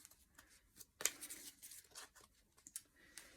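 Oracle cards being shuffled by hand, soft papery riffles, slides and crisp flicks in irregular bursts, close and quiet with one sharper snap partway through.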